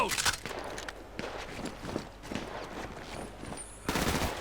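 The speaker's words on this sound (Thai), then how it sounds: "เฮ้ยโดนยิงว่ะโดนยิงจากไหนวะ" Gunfire in the video game GTA V during a zombie-city survival session: rapid bursts of automatic shots crackling over the whole stretch, with a louder burst at the end and footsteps mixed in.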